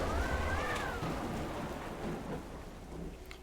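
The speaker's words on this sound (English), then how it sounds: "You step into the acid rain, and it's a crappy planet." An acid rain storm on a planet in a video game rolls on with a deep thunder rumble and constant heavy rainfall, a rising tonal whine at the start and faint clicks later.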